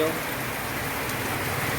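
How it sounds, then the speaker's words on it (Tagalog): Dense, steady hiss of heavy rain pouring down, a continuous wash of noise with no break, fairly loud and close. "Dahil malakas na po yung pagulan"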